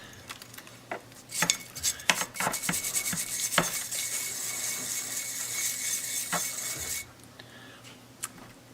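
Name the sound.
scraping rust off an old heirloom tool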